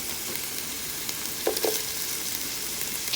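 A steady, quiet sizzle of picadillo frying in a pan as olive and caper mix goes in, with two short soft clatters partway through and no talking.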